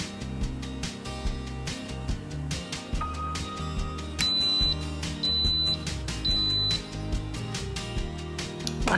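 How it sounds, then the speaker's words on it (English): An Instant Pot electric pressure cooker timer beeps after five minutes on high pressure, three short high-pitched beeps in a row partway through, over a busy kitchen background. "My timer just beeped for 5 minutes."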